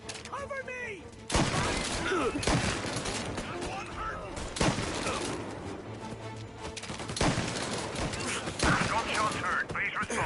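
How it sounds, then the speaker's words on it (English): Bursts of gunfire in the video game Mafia crack repeatedly in rapid volleys, mixed with shouting voices and action sound effects. "Gunshots heard. Please respond."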